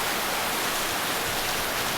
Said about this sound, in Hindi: बारिश देखो भाई क्या तगड़ी हो रही।